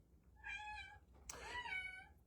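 Two kittens, pets taken in during July, give a pair of short, high meows close by, the second one sharper and louder, with no talking over them.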